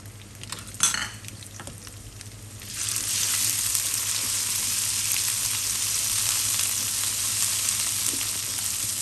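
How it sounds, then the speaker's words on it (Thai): Chillies stir-frying in hot oil in a wok for a Thai spicy basil instant-noodle dish, a few spatula scrapes first, then a loud steady sizzle that swells and holds close up with no talk. "ผัดพริกให้หอมค่ะ"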